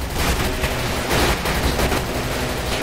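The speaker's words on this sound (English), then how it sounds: "Open fire!" Sustained automatic gunfire rattles through a GTA 5 roleplay shootout, a loud, dense fusillade of rapid shots that runs nearly unbroken, with no talk over it.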